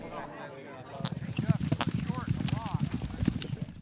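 Horses' hooves clip-clop in a steady, busy patter from a frisky herd on a frosty May morning in western Colorado, fairly close and continuous, with voices and other herd noise mixed over the hoofbeats.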